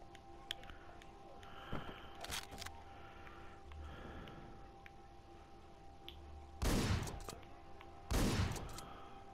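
Shotgun blasts in the video game Hotline Miami, two loud short bursts a moment apart near the end, preceded by quieter game clicks and thumps.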